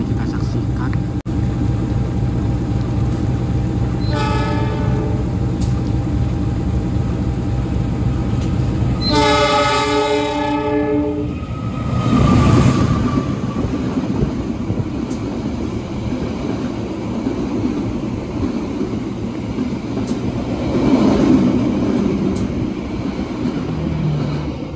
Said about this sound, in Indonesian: itu tadi melintas langsung kereta api Malabar